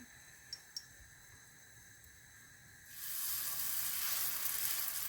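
Quiet room tone with a couple of small clicks, then a sudden loud sizzle as potato pancake batter hits hot oil in a pan, hissing steadily to the end.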